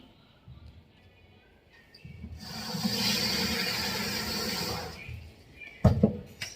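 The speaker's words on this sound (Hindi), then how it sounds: "4-5 बार धो लूंगी मैं साबूदाने को" Soaked sago pearls being washed in water in a home kitchen, a steady swishing and sloshing of water that runs for a few seconds, then a few sharp splashes and clatters near the end.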